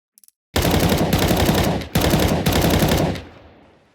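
An M4A4 assault rifle fires in Counter-Strike 2 in two loud, rapid automatic bursts separated by a brief gap, close and dry, with a tail fading out after the last round; a few faint clicks come before the first burst.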